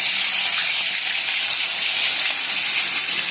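Ginger, garlic and onion paste hitting hot oil with whole garam masala, a loud steady hiss of frying that holds evenly throughout.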